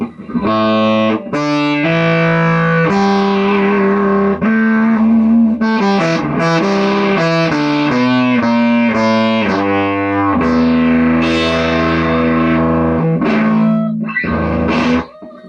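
Distorted electric guitar plays single-note lines on one string through an overdriven Grommes Precision S-35 35-watt mixer amp, notes ringing and sliding one after another, loud and close with no talking.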